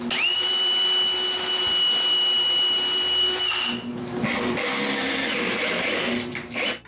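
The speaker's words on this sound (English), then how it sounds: "I screw it in place at the back of the bin and drill all the screw holes" A power drill boring screw holes for a recycled hinge on the back of a wooden kitchen recycling bin, a steady high whine for several seconds, then rougher grinding bursts as the bit bites into the wood.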